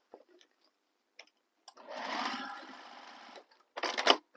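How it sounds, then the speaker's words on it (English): A sewing machine runs in one steady burst of about two seconds, stitching a handbag seam open, then stops. A short second run follows, with light clicks and handling noises in the quiet gaps before and after. "I'm going to stitch this seam open just to help hold it open"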